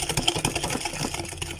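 Electric mixer beating cake batter of margarine, sugar, eggs and vanilla essence, a steady close whirring and rattling hum with rhythmic pulses throughout.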